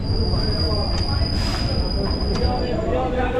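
Train at Samudragarh station, a loud rumbling roll with a steady high metallic squeal from the wheels, a few clanks, heard close and continuous.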